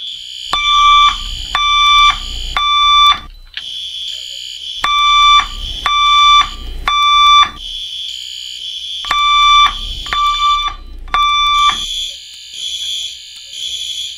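A fire alarm in a Roblox building sounds in repeated loud bursts of electronic tones, several rapid beeps per group separated by short pauses, with a continuous higher tone over the last couple of seconds.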